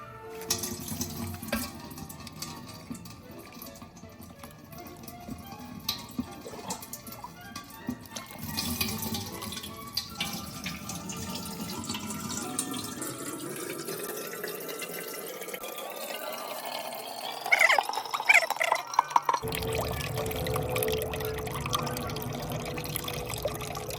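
Ground jowar batter being strained, with water trickling and dripping steadily, a flow that rises gradually in pitch as a vessel fills, close and moderately quiet, no talking.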